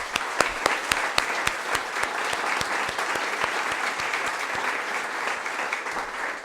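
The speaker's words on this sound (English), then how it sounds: "let's have one more big round of applause for everyone who has spoken and performed here today" At a school tea fundraiser, an audience claps for the speakers and performers. The applause is steady and moderately loud, with a few sharp claps standing out near the front.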